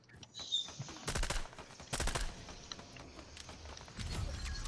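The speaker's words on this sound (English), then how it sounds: "They're shooting each other" Rapid bursts of video game gunfire crackle in several volleys, with dense automatic fire around the first and second seconds and again near the end, over a steady background hum.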